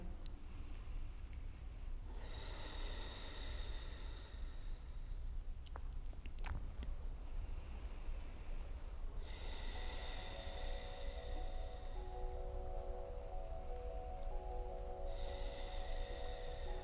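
Slow, deep pranayama breathing during a gentle yoga practice, three long breaths spaced several seconds apart, soft and close over a steady hiss of background noise.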